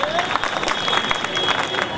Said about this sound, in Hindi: इसलिए तालियां बजाइए